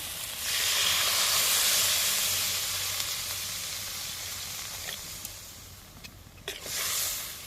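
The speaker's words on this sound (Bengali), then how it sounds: "আলুটা সিদ্ধ হতে হবে সেই মতো জল দিলাম" Water poured into a hot pan of potatoes for a bitter gourd dish bursts into a loud, steady hiss of steam and sizzle that slowly fades, with a brief clatter and a second surge near the end.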